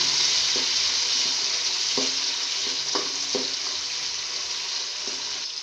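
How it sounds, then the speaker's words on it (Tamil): Chopped tomato sautéing in a pan for a Salem-style Tamil fish curry gives a steady, fairly loud sizzle, broken by a few soft scraping clicks as it is stirred, with no talking. "அதை போட்டு நல்லா வணக்கி விட்டுக்கோங்க"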